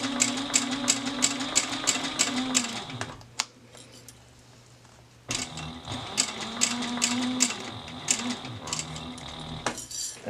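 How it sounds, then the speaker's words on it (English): A sewing machine stitches a bag in fast, even bursts of rhythmic needle clatter, pausing for about two seconds midway before resuming at the same steady pace, close and clear with no talk. "And I'm going to stitch now to the other corner."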